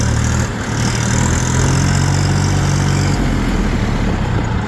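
A Chinese RD 244 LUX tractor's diesel engine runs loud and close while driving, a steady low rumble with a slight change in tone partway through, no talk.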